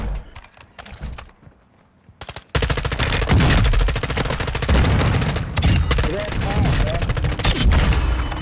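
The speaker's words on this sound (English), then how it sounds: "Somebody shooting at me." Gunfire in the Warzone video game, at first sparse distant shots and then a long, loud stretch of rapid automatic fire with close bursts; a voice is heard now and then.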